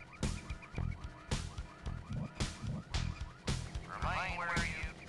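Car alarm blaring in the Full Throttle video game, a loud repeating electronic siren with rising and falling wails that pulse steadily throughout, with a brief voice near the end.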